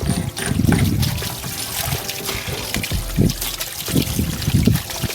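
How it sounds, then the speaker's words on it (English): Running water from a hose or tap pours and trickles over a pile of rocks being rinsed clean for a backyard pond, splashing in uneven bursts close by. "I'm going to go and wash all of these off, because we don't want to get any dirt inside of our pond."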